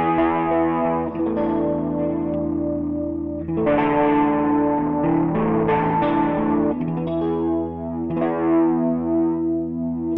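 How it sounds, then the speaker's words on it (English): A guitar played through the digital chorus effect of a Sony HR-GP5 stereo unit, with distorted, shimmering sustained chords and short note runs, loud and close, with no talk. "this next one is the digital chorus"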